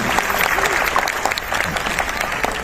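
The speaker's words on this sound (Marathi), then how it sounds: "यांचं जोरदार टाळ्या वाजवून आपण सहर्ष स्वागत करू." An audience applauding at a political event in Satara to welcome candidate Shambhuraj Desai, dense continuous clapping from a crowd, fairly close and even in level.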